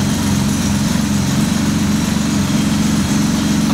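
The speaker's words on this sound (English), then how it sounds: "it's idling now" A Porsche 911 engine idles steadily up close after long storage in a barn, a loud, even mechanical drone with a slightly buzzy, rapid throb that holds without revving.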